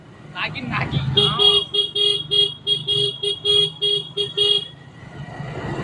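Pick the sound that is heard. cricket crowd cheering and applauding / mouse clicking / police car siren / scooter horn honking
scooter horn honking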